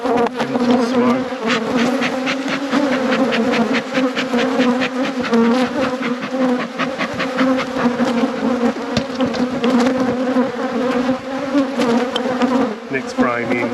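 Honey bees buzz densely at an open hive in an apiary at peak production, a loud continuous droning hum close by, with handling noises and faint sounds mixed in.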